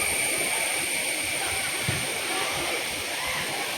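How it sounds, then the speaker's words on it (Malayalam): A waterfall and stream running beside a temple path near a rubber plantation, a steady close rushing hiss of falling and flowing water, constant in loudness throughout. "വെള്ളച്ചാട്ടം ഇവിടെ നിന്ന് ഇങ്ങനെ ഒഴുകി പോവാണ് സൈഡിൽ കൂടെ"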